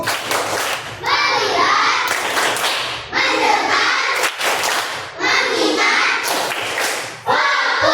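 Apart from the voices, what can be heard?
children doing a rhythmic focus clap in class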